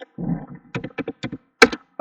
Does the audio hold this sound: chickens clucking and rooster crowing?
no